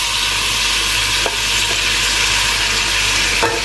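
Cabbage being sautéed in a hot pan, a loud continuous hissing sizzle with a couple of faint knocks from a stirring utensil, no speech.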